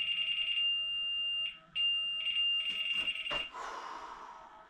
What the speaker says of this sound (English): I got the solid beep on the laser on all three.